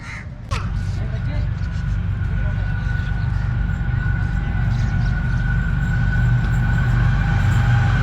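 The Hazara Express train sits at a railway platform, giving off a continuous loud low rumble with a steady whine, while people talk nearby.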